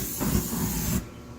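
Cooking oil sprayed from a can onto a barbecue grill, a steady close hiss lasting about a second before cutting off sharply.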